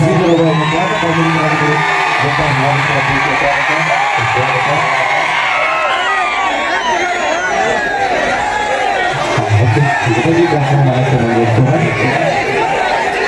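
Loud crowd cheering, whoops and shouts at an orchestra stage show, sustained and dense for the whole stretch, with chatter and music mixed underneath.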